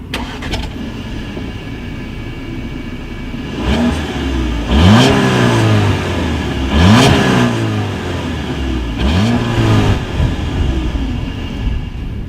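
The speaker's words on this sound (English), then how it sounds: "As always, here is that exhaust clip." A 2019 Audi A4 revving through its dual exhaust with chrome tips, loud and close, with a steady idle rumble broken by three sharp throttle blips that climb and fall away, no talking.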